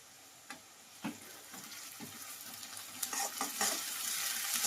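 Brinjal frying in a pan with ginger garlic paste, a steady sizzle with scattered stirring scrapes and clicks throughout, close and fairly quiet.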